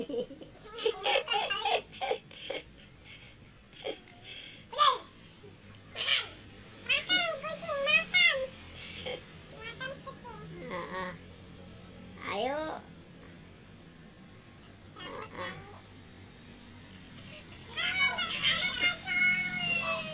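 A cat meows several times between bursts of people talking and a child's giggles nearby.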